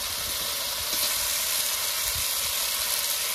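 Ground spice pastes of dried chilli, cumin and ginger sizzle and fry in a pan, a steady, loud hiss and crackle that carries on throughout with no talking.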